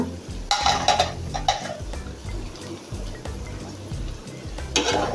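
Goat meat curry is stirred in a pot, giving soft scraping and bursts of sizzling that come and go with the strokes, fairly quiet and close.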